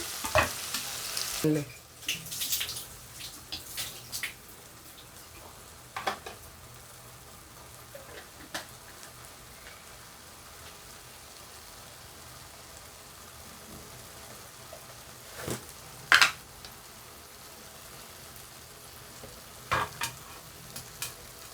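Gongura leaves frying and being stirred into a prawn curry in a pan, a low steady sizzle with intermittent scrapes and clinks of the spoon against the pan, louder bursts of stirring near the start and again toward the end.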